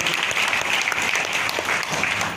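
A seated audience at a community reform gathering applauds in a dense, even burst of clapping, filling the short span without pause or speech.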